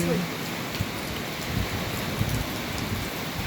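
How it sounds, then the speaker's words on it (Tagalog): Steady rain pours down in Negros, Philippines, a dense, even hiss of drops hitting surfaces close by, with a few faint thuds and a voice speaking softly underneath. "Sa wakas, umulan na rin."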